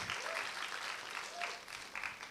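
Audience applause welcoming a guest onto a stage at a Korean gathering, a steady burst of clapping from a crowd throughout, with faint voices underneath.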